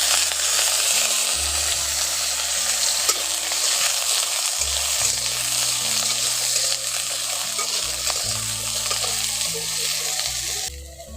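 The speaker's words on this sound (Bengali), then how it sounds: "এখন আলুটাকে ভেজে নেব।" Peeled, small-diced potatoes sizzle in a pan with a dense, continuous crackle, stirred and scraped throughout while a low hum runs underneath.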